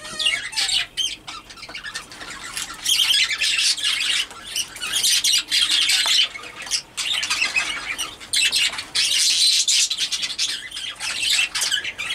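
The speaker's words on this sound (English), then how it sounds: "So I have a lot of birds in here right now." Chickens squawk repeatedly inside a coop holding hens and chicks, with loud, close bursts of harsh calls in uneven clusters and some wing flapping.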